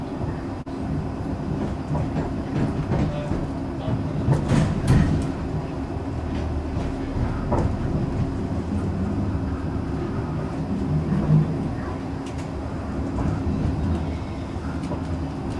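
Steady rumble of a South Western Railway Class 458/5 train rolling along the rails, a continuous low drone with faint clicks and rattles, no talking.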